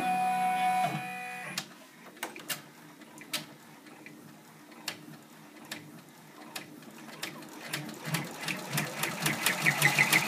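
Embroidery machine stitching a design onto fleece, starting up after a short beep, then running with a rapid, steady mechanical ticking and clatter that grows slightly louder and denser toward the end, close and alone without talk.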